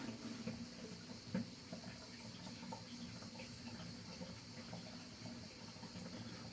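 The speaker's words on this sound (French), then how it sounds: "je vais faire couler de l'eau" Faint, steady trickle of water from a tap running into a blocked bathroom washbasin, low and continuous with a few small knocks, heard from close by in a quiet room.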